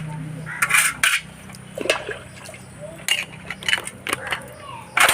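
Dishes, pots and pans being washed by hand, with intermittent clinks of metal and ceramic and splashes of running water, close and moderately loud, over a low steady hum.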